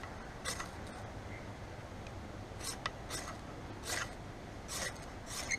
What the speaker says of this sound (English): are raking this fire steel hard enough that they're actually raking off molten metal into their tinder